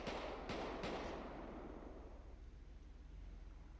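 Gunshots in a video game ring out as two sharp distant cracks over a rumbling, echoing background that slowly decays.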